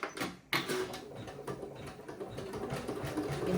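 An embroidery machine stitches an in-the-hoop passport cover with two threads, a steady close mechanical whir with rapid repetitive needle clatter after a brief pause near the start.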